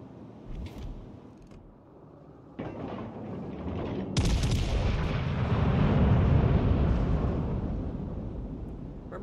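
Warship guns in World of Warships Legends fire repeatedly in heavy booming salvos, with a loud, rolling, rumbling blast building and sustaining near the end amid mechanical creaks.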